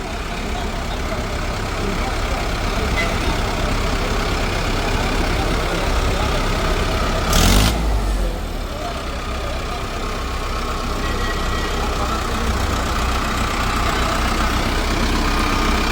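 A new tractor's engine idles with a steady low rumble, close and continuous, with a short louder burst partway through.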